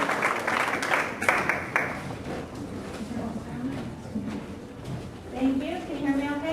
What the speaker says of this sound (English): let's give a warm round of applause to Tammy Burgess